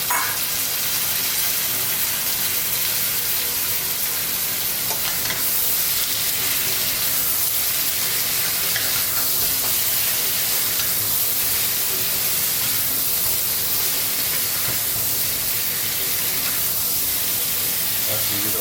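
Blanched pork going into a hot braising pot, giving a steady, loud sizzle and hiss of steam that holds evenly throughout with no pauses.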